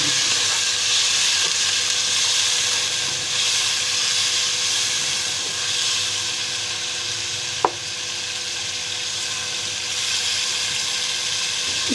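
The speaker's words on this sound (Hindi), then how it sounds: "इसको 2 से 3 मिनट भूनेंगे इसको।" Minced meat keema frying on high flame with garlic ginger paste for a green chili keema, a steady close hiss and sizzle running throughout with one brief sharp click partway through.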